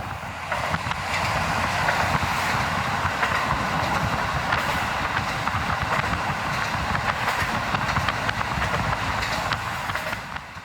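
A train on the Nemuro Main Line, Japan, descending gently along the Sorachi River toward Furano, runs steadily along the rails with a continuous rumbling roar and faint rhythmic clatter, heard from inside throughout.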